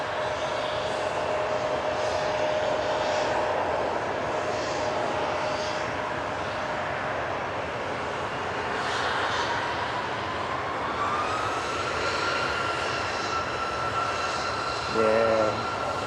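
Passenger jet PH-EXS, fitted with small engines, roars steadily at Manchester Airport as it heads for Amsterdam, a sustained broadband engine noise with a slowly shifting whine, and a brief chirpy sound near the end.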